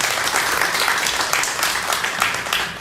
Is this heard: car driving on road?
no